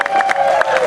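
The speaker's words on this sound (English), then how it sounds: "Let's give them a fun round of applause." Brief burst of crowd applause and cheering from a theme-park show audience, with scattered claps and voices over a steady tonal hum, fairly loud and close.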